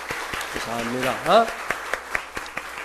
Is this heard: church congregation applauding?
yes